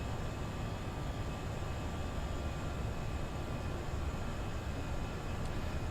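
Airbus A320 jet engines strain during a takeoff climb in a flight simulator, a dense, unbroken roar that stays loud and even throughout with no talk over it.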